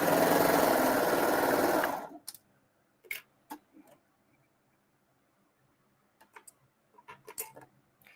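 A serger sewing machine runs a chain stitch in a loud, fast, steady whir for about two seconds and then stops, followed by scattered soft clicks and taps.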